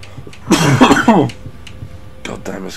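A character coughs and clears his throat in the video game Shadow of War: one harsh close burst, a short pause, then a fainter second cough.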